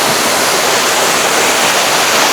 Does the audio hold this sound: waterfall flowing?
yes